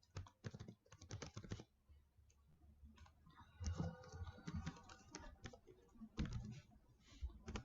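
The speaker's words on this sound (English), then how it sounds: "I'll type my email in the chat." Someone types on a computer keyboard, quiet close clicks arriving in quick irregular bursts separated by short pauses, with a few louder key taps, no voices heard.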